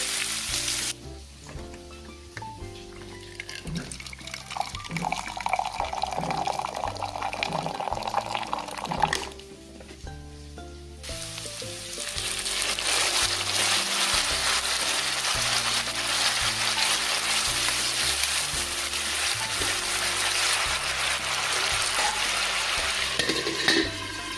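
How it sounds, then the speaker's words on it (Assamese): Potatoes for aloo posto fry in a pan, sizzling steadily, then a splash of water is added and the hiss bursts louder and more intense, continuing strongly and close by. "আৰু অলপ পানী দি ভাজি দিম।"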